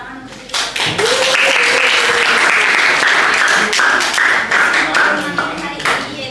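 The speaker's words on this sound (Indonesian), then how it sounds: "beri tepuk tangan untuk itu" An audience breaks into steady applause that swells quickly and holds, mixed with brief voices and cheers in the background.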